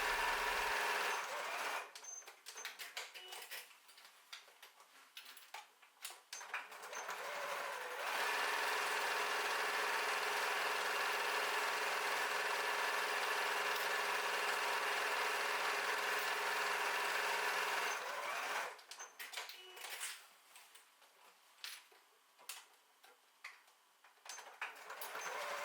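A sewing machine runs seams along the sides and bottom of a tote bag, with bursts of quick stitching giving way to a long steady whirring run before more short stop-start bursts.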